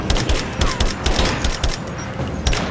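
Rapid gunfire from the video game Rise of the Tomb Raider, a burst of close, loud shots fired in quick irregular succession for a few seconds, with no talk over it.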